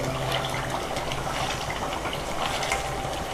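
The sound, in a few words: herbal hair oil boiling in a pan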